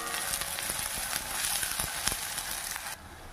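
Small onions sauté in a hot pan, a steady close sizzle and crackle with scattered popping, for a tangy sorrel-leaf thokku; the frying runs continuously and eases off slightly at the very end, with no talking.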